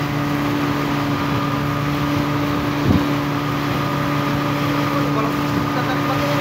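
Boat engine running steadily with a constant droning hum, probably an outboard-powered lifeboat being towed by a local fishing boat, holding level throughout with little change in pitch.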